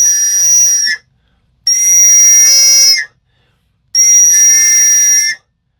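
Three long, loud, shrill blasts from a survival whistle on a combo unit, each about a second or more with short silent gaps between, steady and piercing with no talking.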